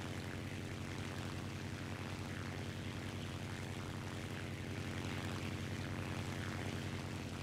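Propeller aircraft engine drone in the War Thunder combat flight game, a continuous loud steady roar with little variation throughout.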